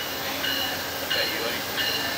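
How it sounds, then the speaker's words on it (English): An Amtrak passenger train hauled by a P42DC diesel-electric locomotive rolls past with a steady, loud broadband roar that swells slightly a few times. "here comes the Amtrak Colonel. Right now, the locomotive is generating electric P42 DC"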